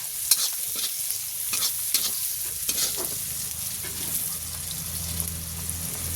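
Onions frying in a pan for a vegetable dish, a steady close sizzle with spatula stirring and scraping clicks running throughout, loud and continuous with no talking.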